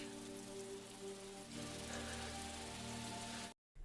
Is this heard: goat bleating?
no